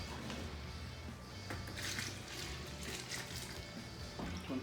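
Water pours steadily into a bucket of self-leveling floor underlayment mix, a quiet, continuous splashing and filling sound with no voices.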